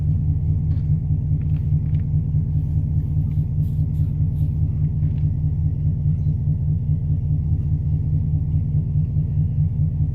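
A 2017 Chevrolet Camaro SS fitted with an MSD intake manifold pulls hard under acceleration, its deep, loud engine rumble steady and close for about ten seconds with no talking.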